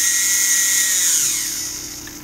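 Modified servo motor turning the gears of a steering assembly, a loud high-pitched whine that holds steady, then glides and fades toward the end.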